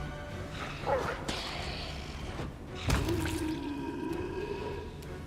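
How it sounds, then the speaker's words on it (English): A dog barks in the fantasy role-playing game Pathfinder: Wrath of the Righteous, short yelps set among whooshing battle effects and a low, drawn-out tonal sound. "The dog."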